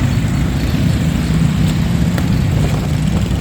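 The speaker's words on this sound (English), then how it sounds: "That tractor's bad fast," A racing tractor tears around a dirt track during a 30-minute endurance race at Prosperity Motorplex in Castle Hayne, North Carolina, its engine a loud, steady, unbroken drone with no speech.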